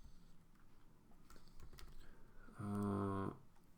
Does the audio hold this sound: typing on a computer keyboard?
yes